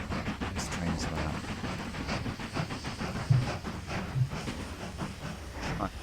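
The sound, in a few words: train running in the video game Mashinky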